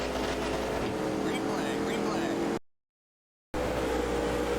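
A race car engine in NASCAR Racing 4 drones loudly and steadily as it climbs through the gears, broken by a brief total silence before the engine noise returns.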